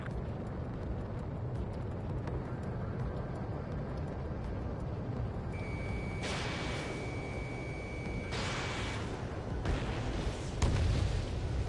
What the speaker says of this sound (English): Fire anti-air guns! Now!